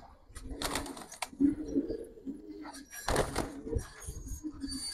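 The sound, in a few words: silver Giribaz pigeon cooing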